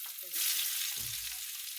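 Garlic and onion frying in oil in a kadhai, a steady hiss of sizzling with a low thump as more goes in partway through.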